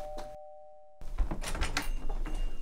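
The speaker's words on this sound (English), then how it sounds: "Doorbell!" A doorbell rings once with a clear steady tone that cuts off abruptly, followed by rustling and room noise.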